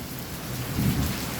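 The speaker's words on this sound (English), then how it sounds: "stormy, raining, thunder and lightning." Steady rain with a low rumble of thunder rolling in midway through a stormy downpour, fairly quiet and continuous with no voices.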